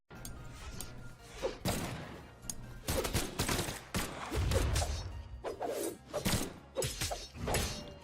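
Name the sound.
guns firing in video game Brawlhalla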